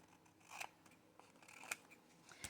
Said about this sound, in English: I know I have to trim a little here